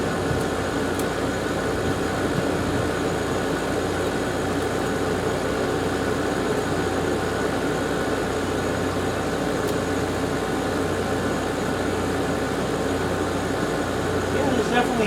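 A garage air conditioner unit and its fan run steadily, producing a loud, even drone with a low mechanical rumble that continues throughout.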